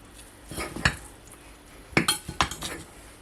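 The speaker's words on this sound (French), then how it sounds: "On fait des petits tas dans la poêle." A spoon scoops grated potato and drops it into small piles in a frying pan, giving a few clinks and scrapes of metal on the pan in two short bursts, close and clear, with no talking.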